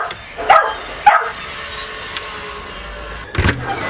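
A dog named Giz gives a few sharp barks, two close yaps early on, then a faint tick and one more louder burst near the end, over quiet room hum.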